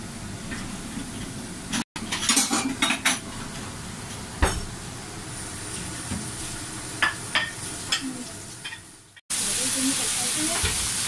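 Crab stir-frying in a covered wok: a steady, close sizzle with scattered clatters of utensils against the wok, broken by two brief silences and ending in a louder, brighter hiss.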